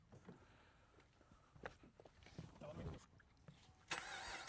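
The V8 engine of a Chevrolet Camaro SS American muscle car starts after quiet shuffling and handling noises, then settles into a loud, steady rumble close by.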